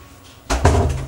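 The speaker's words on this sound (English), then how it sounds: "I'm gonna close the door" A door in a home is pushed shut with a loud, close wooden thud and brief rattle, following a quiet pause.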